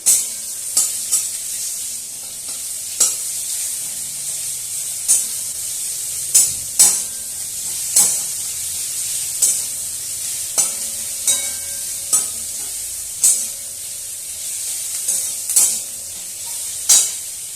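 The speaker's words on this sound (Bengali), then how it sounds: "পেঁয়াজটা তাড়াতাড়ি ভাজা হয়ে যায়" Chopped onions sizzle steadily in hot oil while a utensil scrapes and stirs the pan in regular strokes every second or so.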